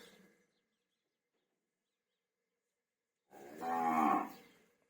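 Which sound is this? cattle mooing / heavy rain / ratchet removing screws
cattle mooing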